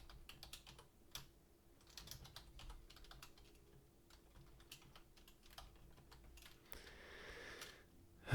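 Someone types on a computer keyboard, a quiet, irregular patter of key clicks with short pauses, close and soft, ending in a brief louder rustle.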